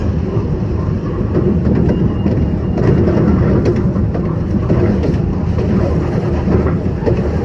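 An LIRR express train climbs a viaduct, its steady, loud rumble of rolling cars and rail noise continuous throughout with faint clickety-clack.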